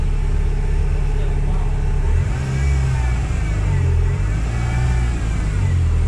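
A 2006 Proton Savvy 1.2i engine runs steadily just after start-up, a loud, continuous low-pitched idle hum close by with no pauses.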